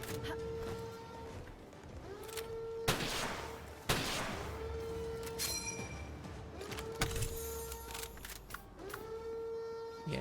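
Gunfire in the Palworld video game, sharp shots and bursts cracking out every second or so over game sounds and tonal effects, with a voice talking at times.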